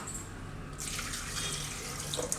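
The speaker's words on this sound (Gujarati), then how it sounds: "એમાં આપણે પાણી નાખીશું." Water pours into a pressure cooker holding vegetables for a tomato and drumstick curry, a soft splashing stream that starts partway through, quiet and close.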